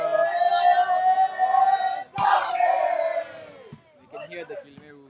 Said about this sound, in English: You can hear the Kilimeru crowd very loud.